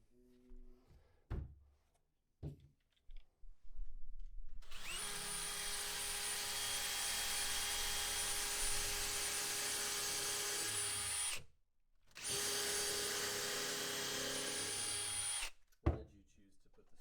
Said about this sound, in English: clamp on it, and we'll screw this together down here